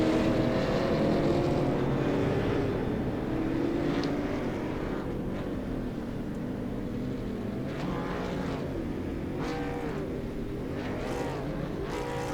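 Late model race cars in a sim racing video game pull off pit road at Lucas Oil Raceway, a continuous engine drone with rising and falling revs as cars pass, steady and fairly loud throughout.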